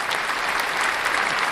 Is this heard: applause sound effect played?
yes